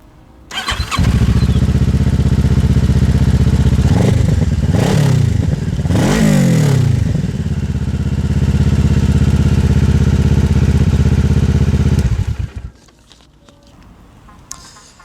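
A 2009 Kawasaki ER6-F motorcycle fitted with a loud aftermarket Exil exhaust silencer, baffle removed, fires up close by and barks through several sharp revs before holding a steady loud idle, then cuts off abruptly near the end.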